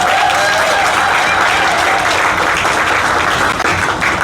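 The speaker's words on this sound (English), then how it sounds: "can we give Monica another round of applause?" Loud, dense applause from an audience at a border fish and bammy shed reopening ceremony, sustained evenly throughout without a break.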